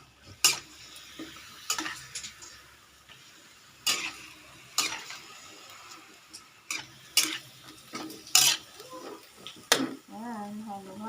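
Adobo being stirred in a pan, with a spoon scraping and knocking against the pan in irregular clicks over a soft sizzle and a quiet background murmur.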